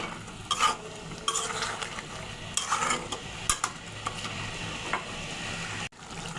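Fried rohu fish head is stirred into sizzling masala, the spoon scraping the pan in repeated strokes over a continuous close frying crackle, with a brief clatter near the end.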